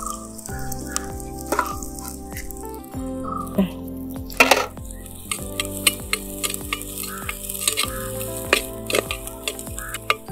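Chopped onions and green chillies fry in a hot pan for a Kerala-style squid roast, a steady close sizzle broken by repeated scraping strokes of a spoon stirring the pan.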